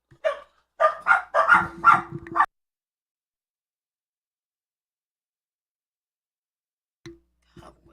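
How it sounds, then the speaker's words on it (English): A quick burst of several dog barks, then silence, then a couple of faint distant yips near the end. "They hear one step, they barking."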